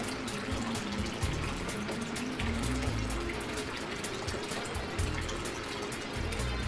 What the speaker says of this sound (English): the flow of water out of the skimmer, of course, will slow down